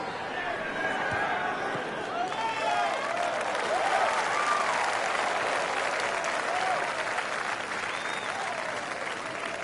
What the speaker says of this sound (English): Oh, I got some clapping.